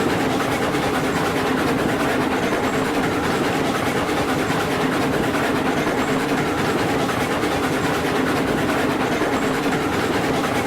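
A train rolls steadily along rails in Railroads Online, a continuous dense rumble and rail noise with a constant engine drone, loud and unbroken throughout.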